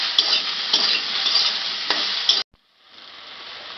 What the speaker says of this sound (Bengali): এরপর আমি বেগুনটা নাড়াচাড়া করবো।